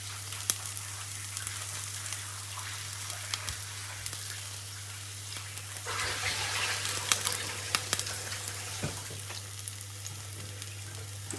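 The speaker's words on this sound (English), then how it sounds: "I'm just washing the cabbage." Cabbage being washed in running water at a kitchen sink while making Jamaican stir-fried cabbage, a steady broadband rush and splash of water that swells louder around the middle of the clip.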